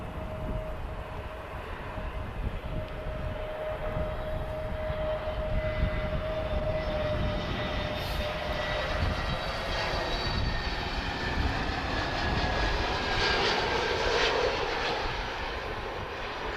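EasyJet jet at Lisbon Airport, a distant steady engine roar with a faint whine, holding at even level for the whole stretch, no voices.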